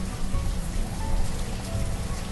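Steady rain pattering on surfaces in the PC city-building game Banished, a dense continuous hiss that holds even and loud throughout with no voices over it.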